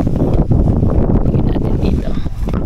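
Strong northeast monsoon gusts buffet the microphone on a boat off Palawan in a heavy, continuous low roar with rushing bursts, no clear talk over it.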